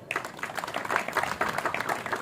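Applause from a crowd at a village kushti wrestling ground, honouring the wrestling coaches: dense, steady clapping that fills the whole moment at moderate distance, with faint crowd voices mixed in.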